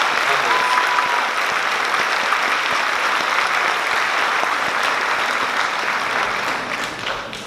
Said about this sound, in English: let's give our high school helpers that make this program more successful than it is a huge round of applause